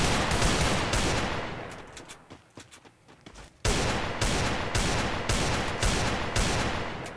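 Rapid automatic gunfire in the video game Free Fire, loud repeated bursts with a brief lull in the middle before a steady rhythmic string of shots resumes.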